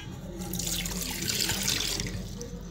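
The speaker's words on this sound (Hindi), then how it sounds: "सबसे पहले मैं एक सॉस पैन लूँगी, उसके अंदर मैं ये पानी ऐड करूँगी." Water pours steadily into a saucepan in a kitchen, a continuous bright splashing stream that stays close and fairly loud throughout with no talk.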